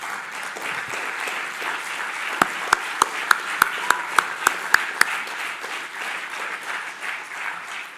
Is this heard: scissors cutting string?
no